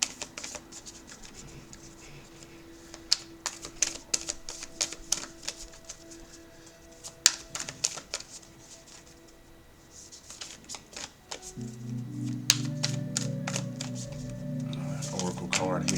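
An oracle card deck shuffled near the microphone, giving scattered crisp card clicks and riffles across the span, with a steady hum underneath and a louder droning tone coming in toward the end.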